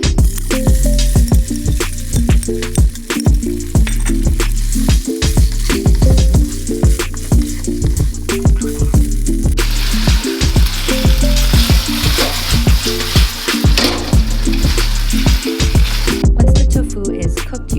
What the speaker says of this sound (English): then you're going to add in the tofu, mix it up a little bit.